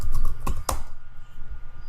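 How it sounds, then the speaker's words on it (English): A computer keyboard sends a quick cluster of sharp key clicks, two distinct close presses within a fraction of a second, followed by faint low background hum and quiet. "I'll hit Control-C on my keyboard"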